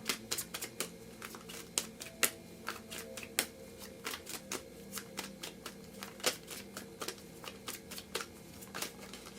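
Tarot cards are shuffled close by. The soft riffling snaps and taps come in irregular bursts, quiet and alone with no talking.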